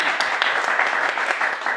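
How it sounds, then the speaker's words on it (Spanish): Applause from a church congregation welcoming a returning guest named Pedro, a steady crackle of clapping from many hands that stays fairly even and moderately loud for its brief length. "Denle un aplauso a Pedro"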